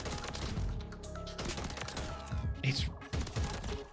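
Rapid, dense gunfire from a high-recoil gun in a Call of Duty match, sustained bursts that fill the whole stretch with overlapping shots and in-game effects.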